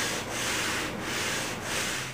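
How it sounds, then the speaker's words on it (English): A radius block rubs back and forth across a guitar fingerboard, three long gritty sanding strokes in a steady rhythm, close and alone. "So we'll just keep sanding, working on the crown."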